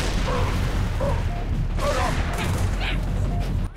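A firefight on the highest difficulty in Halo rages with continuous rattling gunfire and heavy grenade blasts piling up in a dense, loud barrage that only drops off at the very end.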